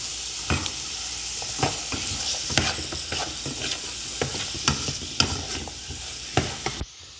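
Onion and sausage sauté in a pan with a constant bright sizzle. Regular scrapes and knocks of a stirring utensil against the pan punctuate the sizzle every half second or so, with no voices.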